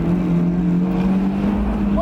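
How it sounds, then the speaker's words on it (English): A Honda S2000 engine humming steadily at speed from the cabin, a strong low drone with a rising rev flare at the end as the driver downshifts the manual gearbox; a voice speaks over it. "Let's downshift."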